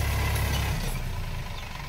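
A Mahindra Yuvo Tech+ tractor ploughs a field with a 5.5-foot rotavator, its diesel engine a steady, loud low rumble that runs throughout, easing slightly after the first moment.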